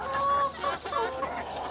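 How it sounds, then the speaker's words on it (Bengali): Caged chickens squabble, several sharp clucks and squawks overlapping in quick, agitated bursts, fairly close and moderately loud. "খাঁচায় মুরগিরা অনেক মারামারি করে, একজন আরেকজনকে সহ্য করতে পারে না।"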